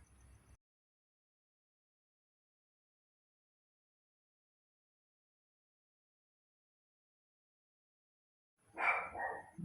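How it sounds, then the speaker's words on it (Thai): Brief barking at the very start, then a long silence, and another burst of small, high yappy barks near the end from puppies close by, outdoors in rural Bueng Kan, Thailand. "เสียงหมาน้อยเห่าค่ะ"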